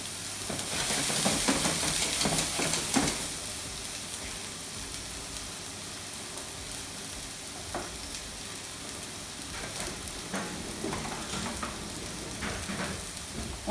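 Diced onions sauté in a pan for a penne gratin, giving a steady sizzling fry that swells loudest in the first few seconds and then settles into a quieter continuous crackle with occasional stirring scrapes.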